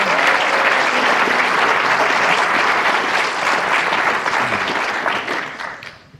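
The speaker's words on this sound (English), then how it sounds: "Give them a round of applause." Loud, sustained applause from the audience at a 2024 State of the County address, a thick wash of clapping that stays strong for several seconds before tapering off at the end.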